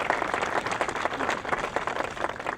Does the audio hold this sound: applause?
yes